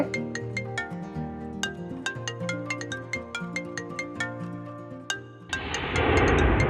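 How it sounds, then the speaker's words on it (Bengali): A mobile phone ringtone plays a bright, repeating melody with crisp plucked notes for about five seconds, then cuts off into a burst of broadband noise. "তোমার ফোন বাসতেছে"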